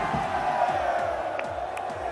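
Zamalek football fans roaring and cheering in a packed stadium, a loud continuous crowd wash with shouting voices close by.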